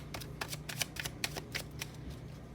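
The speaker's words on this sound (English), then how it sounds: "your cards are just flying." Tarot cards are shuffled close by in a string of quick, crisp riffling flutters, each a few tenths of a second long with brief gaps, over a low steady background hum.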